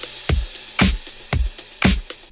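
Percussion tracks from a mix play together in a regular groove, with punchy kick thumps alternating with bright snare-like hits and a light ticking top layer, clear and up front.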